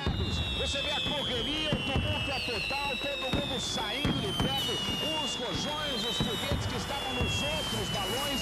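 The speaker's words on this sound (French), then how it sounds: "Elle s'enflamme, c'est l'explosion." Dense crackling bursts and pops like fireworks going off in rapid succession, with whistling streaks overhead and voices shouting in the background.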